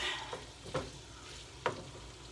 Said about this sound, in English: And we're going to mix up the tofu.